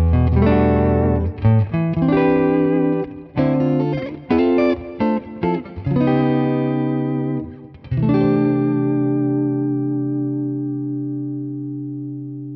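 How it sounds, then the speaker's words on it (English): A Fender Stratocaster electric guitar on its neck pickup with a clean tone plays a short rhythmic phrase of chords and single notes, ending on a long ringing chord that slowly decays, loud and alone. "Here is a clean tone using the neck pickup."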